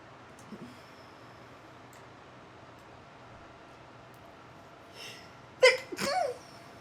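A single sharp sneeze bursts out near the end, loud and close, after a quiet stretch with faint background hiss.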